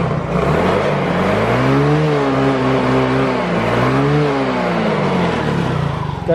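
A fuel-injected automatic scooter engine, one that tends to stall over potholes, idling and then revving twice in smooth rising and falling swells, loud and close throughout, with no talking.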